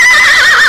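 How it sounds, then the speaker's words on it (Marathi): A recorded horse gives a short, loud, wavering neigh, a single whinny heard alone. "घोड्याच्या आवाजाला आपण खिंकाळणे म्हणतो."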